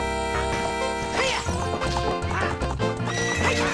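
A horse neighs in the video game Legend of Zelda: Ocarina of Time, its whinny and hoof clops mixed with loud, busy in-game music.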